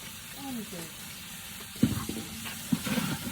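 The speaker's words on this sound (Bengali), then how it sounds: "মশলাটারে ভালো করে কষিয়ে নিই" Ready-mix biryani spice masala frying in a pan at a village picnic cook-out: a low, steady sizzle with a brief voice early on, then several sharp stirring knocks and scrapes in the second half.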